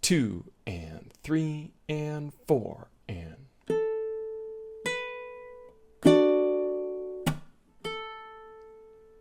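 Ukulele chord melody played through a single measure, fingerpicked notes then strummed chords ringing out in clear plucked attacks, close and fairly loud, after a voice counts along at the start.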